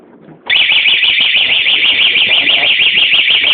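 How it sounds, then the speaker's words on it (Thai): A motorcycle anti-theft alarm suddenly starts wailing, a rapidly warbling siren tone that repeats continuously and close by. "ติดสัญญาณกันไว้นะครับจรไม่สามารถขโมยคันนี้ได้แน่นอนนะครับ"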